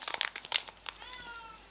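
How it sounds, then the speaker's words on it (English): A cat meows in the background, a short rising then falling call at middle distance following some crinkling and rustling handling noises, fairly quiet. "If you hear a cat in the background"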